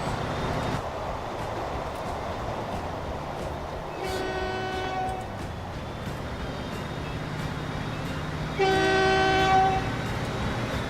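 A freight train in the Transport Fever 2 game pulls away with a low rumbling engine, while two short bursts of a chiming horn sound a few seconds apart over the steady mechanical drone.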